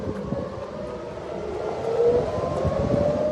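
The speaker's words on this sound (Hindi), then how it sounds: "टेल अवीव में हर तरफ से सायरन बज रही है" Civil defense sirens wail across Tel Aviv, a steady rising tone with a faint higher harmonic over a low rumbling city background, growing slightly louder toward the end.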